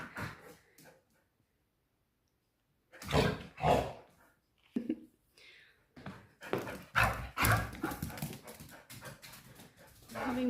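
An akita dog plays energetically, giving short barks and panting in bursts after a quiet start, close by and fairly loud; a person's voice may mix in.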